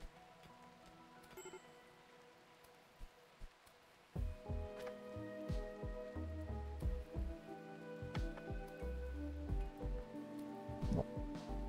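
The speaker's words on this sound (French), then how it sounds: "Heureusement, il pleut." Rain falls in the video game RimWorld, a soft steady patter underneath louder plucked game music and scattered clicks that enter partway through.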